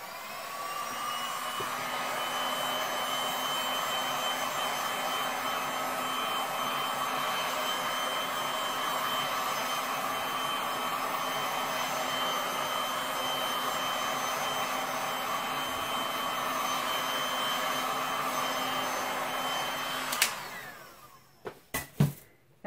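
A heat tool blows hot air over resin on a deck table, a loud steady whine and rush lasting about twenty seconds before switching off, followed by a few brief knocks.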